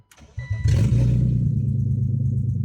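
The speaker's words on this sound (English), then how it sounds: "we're gonna take this thing on its first drive around the block, even though it's gonna be really, really loud" A BMW E36 318ti with a swapped-in M52 engine starts up and settles into a loud, deep, steady running note after a brief crank, rumbling close by with no talking.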